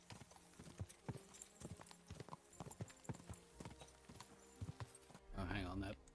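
Horse hooves clip-clop in a steady walking rhythm in the medieval video game Kingdom Come Deliverance II, faint and even, ending in a brief louder burst.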